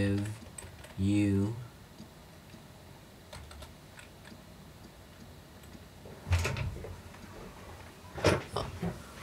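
Light, scattered keystrokes on a computer keyboard in a quiet room, a few soft clicks at a time with long gaps between, plus a brief unrelated tonal noise near the start.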